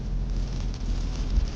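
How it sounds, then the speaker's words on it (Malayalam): Steady rain drums on the outside of a car, heard from inside the cabin as a dense, even hiss with a low rumble, fairly loud and constant throughout, with no voices. "നല്ല മഴ"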